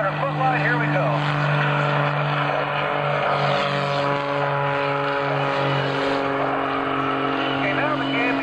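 Bulldog aerobatic airplane engine flown in a 2004 Sussex airshow routine, a steady droning propeller tone holding throughout, with a pilot's voice talking over it.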